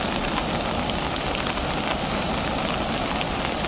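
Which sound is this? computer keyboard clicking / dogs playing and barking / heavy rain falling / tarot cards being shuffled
heavy rain falling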